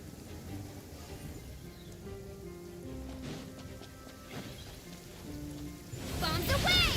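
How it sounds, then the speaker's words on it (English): Steady rain falls constantly in the video game Genshin Impact, a dense even hiss beneath soft sustained musical tones, and a brighter burst of sound rises louder at the very end. "they made it permanently rain"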